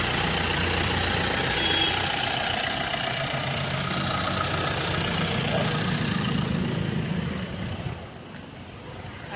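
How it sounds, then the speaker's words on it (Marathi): Close, steady idle of a 2008 Maruti Swift diesel car running again after an ECM replacement, a continuous knocking rumble that drops away sharply near the end. "गाडी चालू झालेली आहे"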